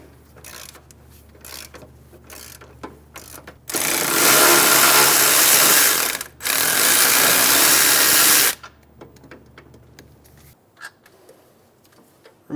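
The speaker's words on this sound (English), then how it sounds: "Using a 14mm socket, we're going to remove the two bolts out of the bottom of the engine mount." A 14mm socket on a power tool spins out the bottom engine mount bolts on a 2003-2008 Honda Pilot, two loud bursts of whirring separated by a brief gap, with softer clicks and ratcheting before and after.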